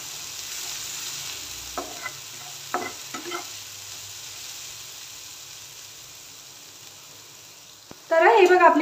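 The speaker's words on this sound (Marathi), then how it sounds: "तर हे बघा आपली मिरची देखील परतली गेली आहे तेलावर।" Green chilli paste ground with a little salt sautéing briefly in hot oil for sabudana khichdi, a quiet low sizzle with a few stir scrapes, then a sudden louder burst of frying noise at the end.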